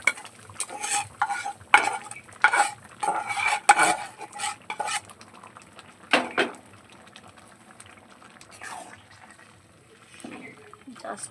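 Tempering being added to a pot of cooked khichuri and stirred in, with clinking utensil scrapes, a brief sizzle and spoon knocks against the pot, fairly close, then quieter stirring toward the end.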